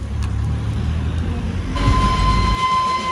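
Darjeeling toy train drawing near at the Ghum Monastery gate, a low steady rumble of the approaching train with a sustained whistle-like tone entering partway through, fairly close and building.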